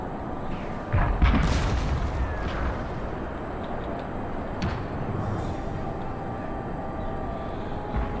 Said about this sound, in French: Le canon est prêt, monsieur! À portée de tir.